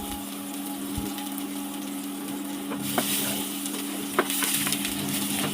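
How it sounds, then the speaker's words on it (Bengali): Chopped onion and garlic fry as a tempering in hot oil, a continuous crackling sizzle that brightens partway through, with occasional sharp spatula knocks against the pan. "ফোড়ন ভেজে নিচ্ছি।"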